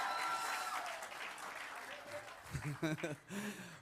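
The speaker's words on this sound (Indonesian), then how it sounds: "sekali lagi tepuk tangan dulu buat Tuhan" Congregation clapping during a church worship service, a broad wash of applause filling the first couple of seconds and then thinning as a voice speaks over its fading tail.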